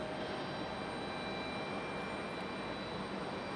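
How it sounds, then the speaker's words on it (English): An American Airlines Boeing 737-800 arriving from Miami at Raleigh-Durham airport produces a steady, broad jet roar that stays constant and fairly distant throughout, with no voices. "American 2867 coming in from Miami, Florida."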